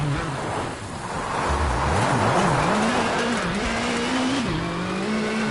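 A rally car in the WRC video game, down on power, short shifts and drops back down the gears, its engine note climbing and falling in quick steps under loud, continuous road and gravel roar.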